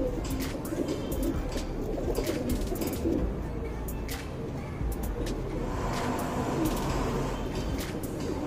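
A tournament pigeon, an old-line Tamral male, cooing close by in repeated soft throaty calls over a busy background with passing traffic noise and other birds.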